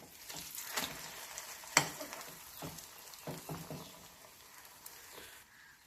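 An egg omelette frying in a pan for a methi curry, a soft continuous sizzle with light crackles and one sharp clink, close and quiet.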